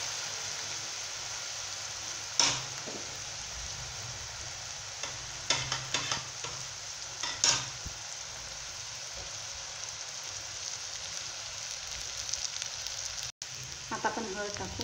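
Curry leaves hit hot oil in a pan while potato sabji is being cooked, setting off a steady, fairly quiet sizzle with a few sharper crackles and pops scattered across it.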